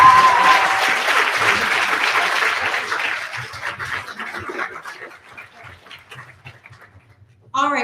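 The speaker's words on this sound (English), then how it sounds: "I think she deserves another round of applause." An audience at an annual freedom banquet applauds, loud clapping at first that gradually thins and fades, with a voice briefly heard at the end.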